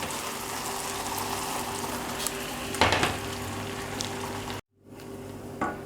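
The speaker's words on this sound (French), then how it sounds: "Et là on va mettre donc le beurre à fondre dans le caramel." Butter melting into hot caramel in a pan gives a loud, steady bubbling sizzle with a few sharp stirring scrapes. The sound cuts off briefly near the end, then returns more quietly.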